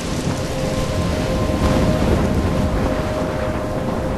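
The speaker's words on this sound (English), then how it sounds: "I'm trapped in a storm?" A storm in the video game Life is Strange: a dense, loud roar of heavy rain with low thunder rumbling underneath, continuous and close throughout, with no speech.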